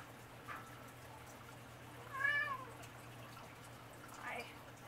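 A cat meows faintly in the background, one drawn-out cry in the middle with softer mews before and after, over a low steady hum.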